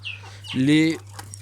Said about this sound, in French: Donc les poules porcelaine rouges qui sont là-bas.